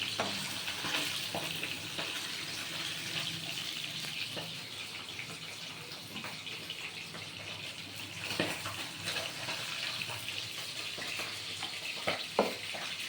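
Pabda fish frying in oil, a continuous crackling sizzle with scattered sharper pops and spatters, moderately quiet and steady, with no talk over it.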